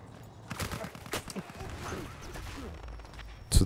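Gunfire in the Battlefield 1 video game crackles as scattered sharp reports over a busy, rumbling battlefield din, with one loud, close blast at the end.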